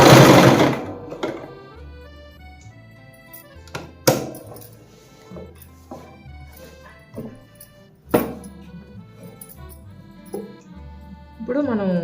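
A sewing machine stitching the side cuts of a Punjabi suit, its motor running in short bursts with pauses between, close by, partly under background music.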